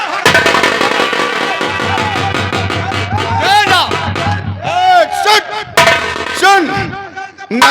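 Loud bomb blasts and crackling bursts go off repeatedly amid chaotic crowd shouting, with a dramatic low musical drone underneath, in a Nautanki folk theatre performance.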